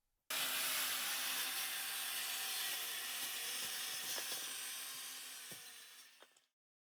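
A job-site saw blade drives through framing nails shot into a 2x4 fastened to plywood, a loud steady grinding whine that holds for about six seconds, fades near the end and stops abruptly.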